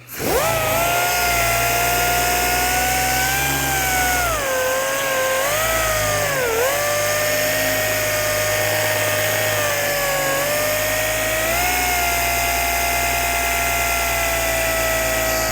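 A dual-action car polisher spins a pad being primed with product, a loud steady whine held for the whole stretch, its pitch dipping and rising as the pad's load changes, with no talk.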